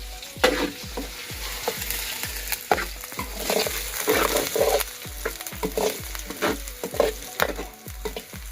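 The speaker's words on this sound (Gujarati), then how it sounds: "મને ઘી પસંદ નથી એટલે હું તેલમાં બનાવતા આપણે પહેલી હળદર શેકી નાખીએ" Fresh turmeric sizzles and crackles in hot oil in a pan, with a steady frying hiss broken by regular stirring scrapes close by.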